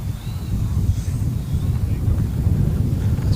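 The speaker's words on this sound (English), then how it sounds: "The wind's blowing 45 degrees from your screen left to right on the runway." Gusty wind across a runway at a model aircraft competition, a loud, continuous low rumble buffeting the microphone steadily from start to finish with no clear talk.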